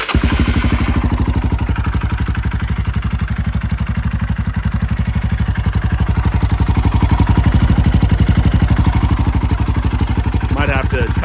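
Royal Enfield Himalayan single-cylinder engine idling with a Delkevic stainless header, a close, loud, even chugging pulse with some mechanical clatter, steady throughout.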